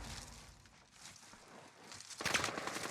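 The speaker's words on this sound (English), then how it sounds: "We got shot from the right hand side" Warzone gunfire crackles faintly at first, then a louder burst of rapid shots erupts near the end in a short, dense volley.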